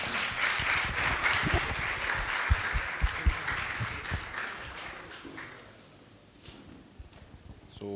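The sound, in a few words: audience applause for the panelists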